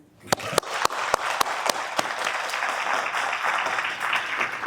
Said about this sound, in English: So please give yourself a big round of applause for being here